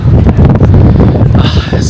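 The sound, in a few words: strong wind on rooftop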